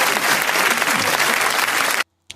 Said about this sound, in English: That's the applause for Virtuoso.